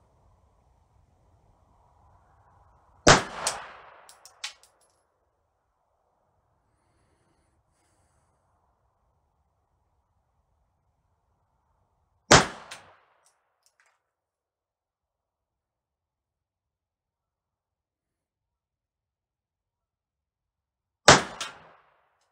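Three sharp pistol shots from Remington factory .32 ACP ammunition at a shooting range, spaced roughly nine seconds apart, each loud and close with a brief ringing tail and near silence between.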